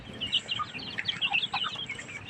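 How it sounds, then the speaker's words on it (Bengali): Farm chickens kept on a small poultry farm cluck in a quick run of short, sharp calls, close by and with no talk. "এই যে আমার মুরগিগুলা"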